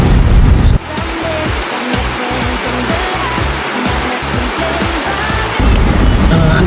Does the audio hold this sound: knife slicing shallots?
no